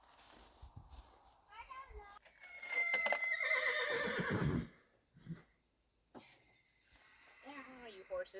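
Horses on a small farm whinny loudly several times, with one long, strong neigh in the middle and shorter calls before and after, mixed with light footsteps and a person talking nearby.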